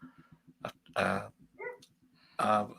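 A dog barks twice, loud and close, with softer grumbling and whining sounds in between.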